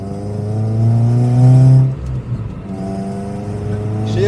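A warmed-up Renault Clio being driven, with the engine droning and revving up, easing off briefly, then picking up again, loud and close from inside the car.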